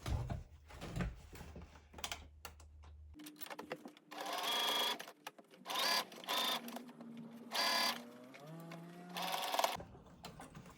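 A sewing machine stitches layers of water-repellent face mask fabric: a close, steady mechanical whir for a few seconds, followed by shorter bursts of running interrupted by pauses and brief tonal sounds.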